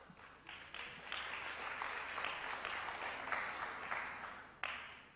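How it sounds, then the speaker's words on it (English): Audience applause at a professional pool billiards match in a world pool league tournament, steady sustained clapping from a crowd for several seconds, with no talk over it. "Crowd appreciating how difficult it's going to be for Davis to get anywhere from this position"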